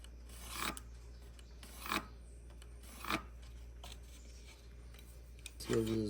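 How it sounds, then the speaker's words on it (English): Sandpaper rasps across a cedar fence picket in four slow, separate strokes, each a short scratchy swell close by, with a brief voice at the end. "sanding it down before, because it makes marking it a whole lot easier too."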